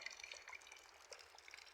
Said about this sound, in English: Just watching the water flowing into my tank.